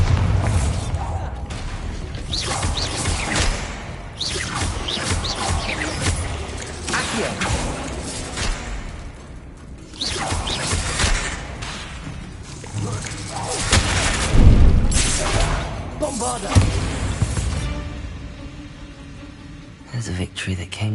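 Repeated Bombarda blasting spell explosions from the video game Hogwarts Legacy rumble and crack through a busy stretch of combat, loud booms and debris mixed with game sounds, with a voice speaking at times.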